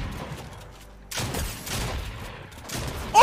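Gunfire in the Fortnite video game, a dense spray of rapid shots in overlapping bursts, loud and close, with a harsh burst at the end.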